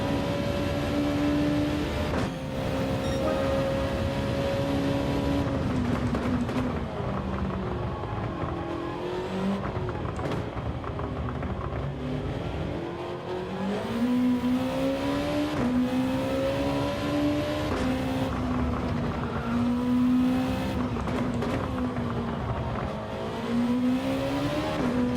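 Race car engine in the iRacing sim revving and accelerating through gears for about 25 seconds, a steady loud whine rising and falling with shifts, with faint tire noise and no speech.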